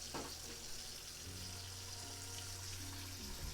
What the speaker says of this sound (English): This is why we wash the spinach.